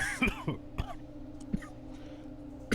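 A few short, harsh coughs and throat-clearing bursts, close by, separated by brief quiet gaps.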